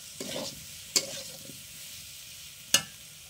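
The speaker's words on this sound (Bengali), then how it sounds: "তারপর আদা রসুনকে ভালো করে দিয়ে ভাজবো আলুটা" Potatoes fry in a pan with ginger and garlic, a faint sizzle broken by a few sharp scrapes and clinks of a stirring utensil, quiet and close.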